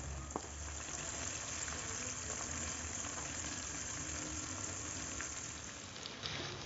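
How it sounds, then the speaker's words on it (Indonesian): Tofu coated in tapioca flour fries in hot oil, a soft, steady crackling sizzle that holds evenly throughout with a few brief pops, fairly quiet and with no talking. "Langsung aja kita goreng."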